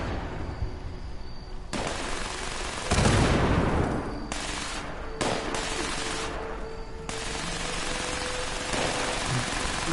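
Sustained bursts of minigun fire in Fallout 76, dense rapid rattling in several long loud stretches with brief pauses between, mixed with game effects and no talk.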